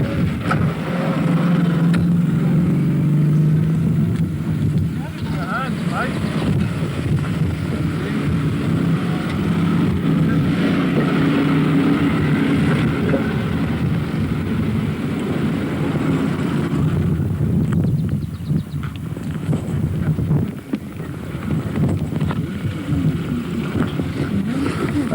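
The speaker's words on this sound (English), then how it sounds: "traffic all over the place." Road traffic passing close by, a loud, continuous roar of engines and tyres with wind buffeting the microphone, swelling and easing as vehicles go past, and no talk.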